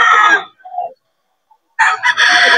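Roosters crow loudly and close by at a cockfighting stag market in Bocaue, two bursts separated by a brief pause with a softer cluck in between.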